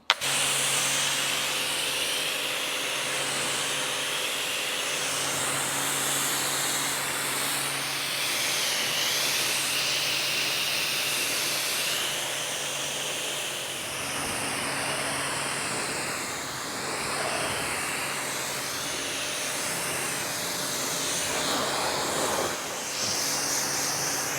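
Pressure-washer water spray rinses foam off a Ferrari, a continuous loud hiss with shifting intensity as the jet moves across the bodywork, steady throughout with a brief dip near the end and no talking.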